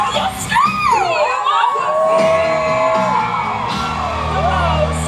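An audience at a show in Disney's Hollywood Studios screams and cheers loudly, children's shrieks rising over a sustained crowd roar.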